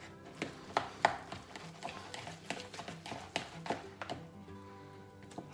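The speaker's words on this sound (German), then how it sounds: "Dann wird wieder geknetet und verrührt." A feta cheese dip mixture with honey being kneaded and stirred with a fork, giving a series of irregular soft taps and clicks against the bowl, close and fairly quiet.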